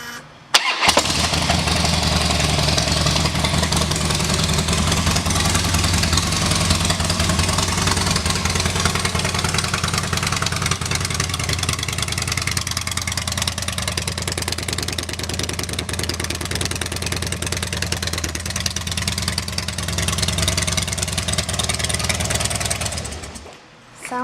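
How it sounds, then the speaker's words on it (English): A 2007 Harley-Davidson Dyna Street Bob with a Reinhardt exhaust starts up and settles into a loud, steady, rumbling idle close by, running continuously for about twenty seconds before cutting off. "and let's listen to that exhaust"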